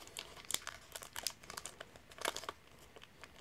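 A taped-shut Pokemon booster pack wrapper crinkles and crackles up close as it is worked open, with irregular bursts of foil rustling and small tearing sounds.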